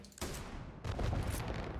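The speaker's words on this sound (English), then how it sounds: "look at the explosion on this thing" Rapid chain of weapon explosions from a video game build, a dense burst of booms and crackling blasts that swells in loudness after a brief pause and continues without talk.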